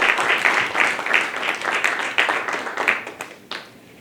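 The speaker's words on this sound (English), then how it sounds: "So the DPW workers should get a round of applause" A round of applause for public works crew members at an outdoor government announcement, clapping from a modest crowd that tapers off toward the end.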